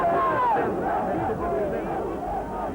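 A triumphant crowd of demonstrators in a city square roars and cheers in a steady, loud, continuous mass of voices after toppling a dictator's statue.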